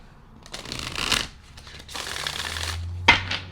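A tarot or oracle card deck being shuffled by hand during a reading: soft riffling bursts rise and fall close to the mic, ending in a sharper snap of the cards near the end.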